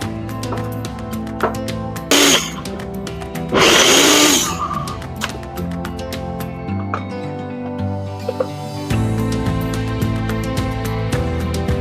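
A mixer grinder blends chopped onions and garlic, with loud whirring bursts between stretches of steady motor hum and clattering, close and continuous throughout.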